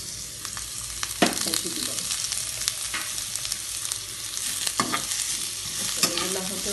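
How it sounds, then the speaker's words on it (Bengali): Onions frying in a little oil in a pan for tomato chutney, a close, continuous sizzle broken by clattering stirs and scrapes, with a brief spoken remark. "এখন আমি এক সাইডে পেঁয়াজগুলো দিয়ে দিব, পেঁয়াজ হালকা একটু তেল দিয়ে দেবো"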